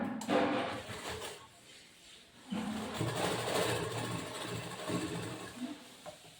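A sewing machine stitches a boat neck blouse, its motor whirring in short steady runs with brief pauses, close and moderately loud.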